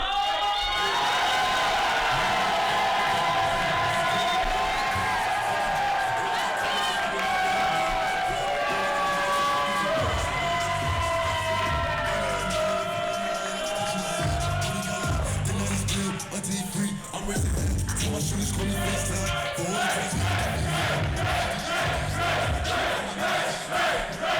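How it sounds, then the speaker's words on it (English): A crowd at a Dallas leadership training event cheers, whoops and applauds for Chicken, a loud mix of shouting voices and clapping that stays strong and shifts toward rhythmic noise later on. "I need y'all to give a huge round of applause, get lit for Chicken."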